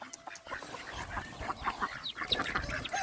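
Chickens clucking and squawking nearby in a busy, overlapping chatter of short calls, moderately quiet and continuous.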